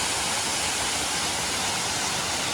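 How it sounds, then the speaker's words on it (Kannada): Kenegundi Karsalagadde waterfall near Bhatkal rushing in a steady, dense roar of falling water that fills the clip without a break, close and continuous, with no voices heard. "ಕೆನೆಗುಂಡಿ ಕರ್ಸಲಗದ್ದೆ ವಾಟರ್ ಫಾಲ್ಸ್."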